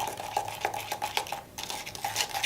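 Powder mixture stirred in a bowl with a utensil, rhythmic scraping and clinking strokes repeating roughly every quarter second, close and clear with one short pause midway, no talking.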